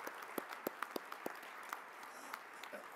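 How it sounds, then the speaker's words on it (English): Scattered applause from a dinner audience in a hotel ballroom, faint and thin, with a handful of distinct claps rather than a full ovation. "you owe yourselves an applause for what you are doing to support this"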